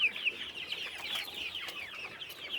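A group of chicks suffering from flu cheeps constantly, with high, thin overlapping peeps in a dense, steady chorus close by.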